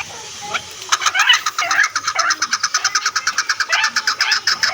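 A chukar partridge calls up close, a rapid, loud chattering series of clucking notes that quickens into a steady rhythmic chuck-chuck run, sounding alone.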